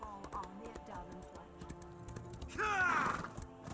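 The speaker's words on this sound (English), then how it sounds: "Let's take the horse." Hooves clip-clop rhythmically from a horse in the game Elder Scrolls Online, under light background game sounds, growing busier and louder near the end.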